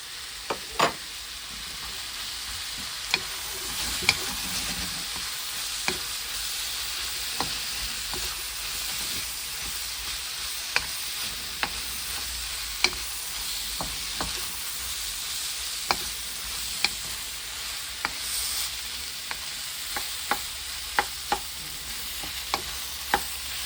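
About half a kilo of sliced mushrooms fries over very high heat in a hot pan, a steady loud sizzle broken by regular sharp scrapes and clicks as they are stirred, with no talking.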